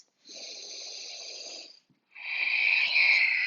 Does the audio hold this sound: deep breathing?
yes